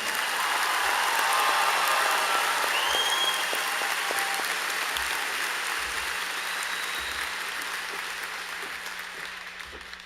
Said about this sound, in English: Let's give this group of 10 one last final applause.